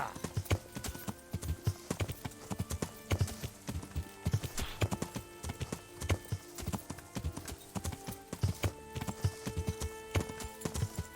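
Steady clip-clop of horse hooves trotting along in Kingdom Come: Deliverance, an even rhythmic beat of hard footfalls continuing throughout with no voices.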